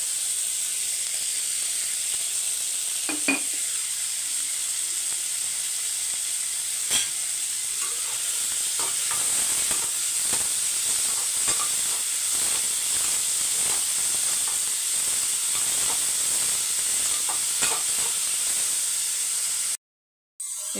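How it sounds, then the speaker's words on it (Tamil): Onions, tomatoes and curry leaves sauté in a hot pan, giving a steady close sizzle and hiss with occasional crackles and pops throughout, ending abruptly. "வெங்காயம் வந்து கண்ணாடி பதத்தில் வதங்கட்டும்."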